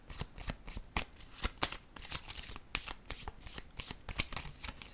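A deck of oracle cards shuffled by hand, a rapid run of crisp riffling flicks repeating steadily for several seconds, close and clear with no talk.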